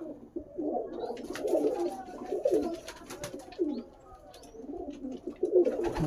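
Several pigeons coo nearby in repeated throaty, rolling phrases over about six seconds, with faint chirps and background noise, and no one talking.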